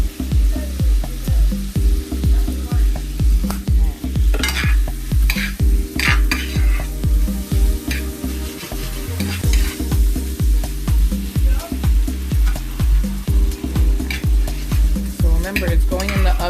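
Lobster meat lightly cooked in a pan with potatoes, loud steady sizzling under a rhythmic, repeated stirring scrape of a utensil against the pan, close and continuous.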